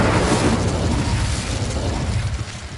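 Incendio fire spell cast in Hogwarts Legacy, a loud broad whooshing burst of flame that starts at full force and slowly thins out over a few seconds, with no voices.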